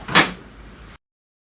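Front door of an HP Envy Photo 7275 printer closing with a single sharp plastic clack, close and fairly loud, followed by a short fading rattle and then silence.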